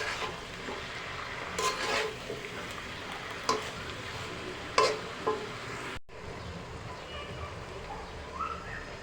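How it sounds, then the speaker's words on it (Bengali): Leafy greens being stirred in a frying pan for a greens-and-egg fry, a steady sizzle beneath scraping spatula strokes, with a sharp clatter midway before the frying settles into a quieter hiss. "এখন শাকটাকে নেড়ে দেব"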